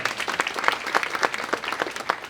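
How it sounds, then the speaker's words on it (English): A small crowd at a leadership awards luncheon claps steadily, a brisk patter of applause that continues throughout. "Give him a round of applause."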